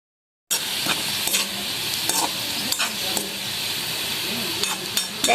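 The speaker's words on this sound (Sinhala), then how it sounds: "ඒකල මම ඒක තෙල් එකට දාලා දැන් තියෙන්නේ ගානට අපිට ඕන ගාන රන්වන් පාට එනකම් බැද" Onions frying in oil in a pan until golden, a steady close sizzle with occasional stirring scrapes and clinks throughout, no voices.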